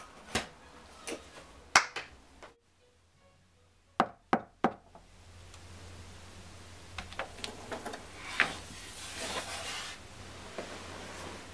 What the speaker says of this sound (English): Did you knock?